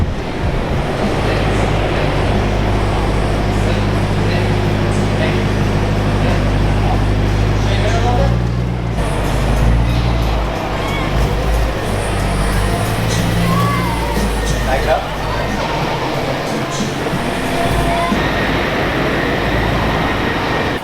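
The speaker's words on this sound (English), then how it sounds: "These tires are super loud, but you know, it's all right." A BMW E92 M3 drives on loud Federal tires, giving a steady road and tire roar with low drone throughout while people talk over it inside the car.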